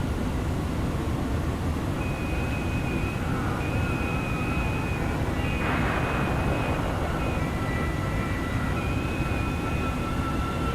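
An Airbus A310-300 jet engine in a flight simulator game gives a loud, steady roar with thin whining tones drifting over it. The sound holds fairly even throughout, with no voices.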